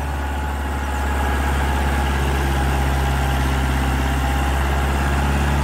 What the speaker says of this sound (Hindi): फुल लोड में चल रहा है ट्रैक्टर, पूरे लोड में।